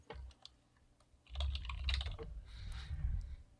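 Computer keyboard typing close by, a few sparse clicks and then a quick burst of keystrokes, with no voices.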